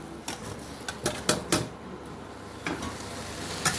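Potatoes frying in a pan with turmeric and Kashmiri chili powder, stirred by a spatula that scrapes and clicks in quick bursts over a soft sizzle, close up and without talk.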